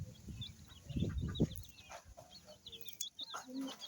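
Clucking from local-breed backyard chickens, a hen among her chicks, with a louder burst of calls early on, then softer clucks and high peeps continuing nearby.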